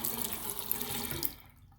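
Water runs from the hot side of a household faucet that has low flow, a steady rushing stream into the sink that cuts off abruptly near the end.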